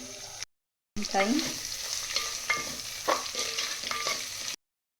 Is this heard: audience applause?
no